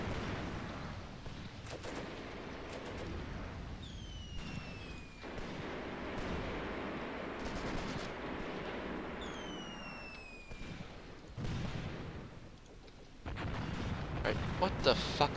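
Distant artillery and gunfire in the WWII tank game Graviteam Tactics: Mius Front, scattered booms and rattling shots across a busy battlefield, with whistling shell sounds twice, under someone talking.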